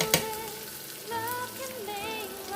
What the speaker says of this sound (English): After 1 minute, I'll go ahead and add in some fresh rosemary. I'll add half a teaspoon of dried thyme.